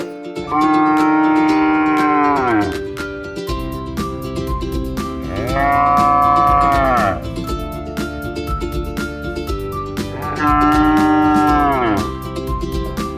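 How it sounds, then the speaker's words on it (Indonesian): Three long, loud cow moos with rising then falling pitch, each lasting about two seconds, separated by pauses with low background noise. "Suara sapi seperti apa ya, teman-teman?"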